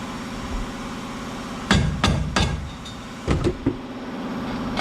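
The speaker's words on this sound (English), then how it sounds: "So use a rubber mallet, and you're going to go ahead and give it a few strikes to help loosen it." A rubber mallet strikes a wheel hub on a GMC Sierra 1500 to loosen it. Two quick bursts of sharp, close blows ring out over a steady low background hum.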